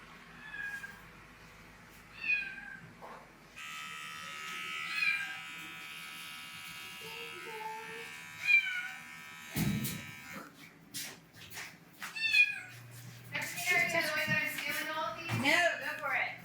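Electric clippers shaving a horse's belly give a steady, close buzzing hum for several seconds, with people talking around it.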